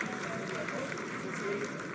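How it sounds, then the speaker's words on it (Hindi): Sustained applause fills the ISRO control room during the Chandrayaan-3 lunar landing, a dense, even wash of clapping with a voice speaking over it. "Lot of applause indicates that till now the performance has been nominal."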